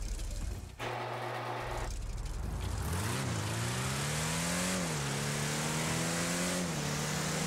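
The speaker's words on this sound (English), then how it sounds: "this is what it sounds like and looks like when it's fully maxed out" A fully upgraded Draugur off-road car in GTA Online starts with an engine rumble, then revs up steadily with rising and falling pitch as it accelerates, loud and continuous, with no voices.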